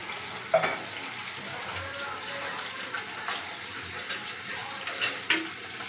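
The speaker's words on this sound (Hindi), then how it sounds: "और इसको ऐसे थोड़ा मिला लेंगे।" Fish curry masala of coriander and red chilli powder stirred with added water in a pan, a continuous wet sizzle broken by repeated scraping strokes and a few sharper clinks, close by, no speech.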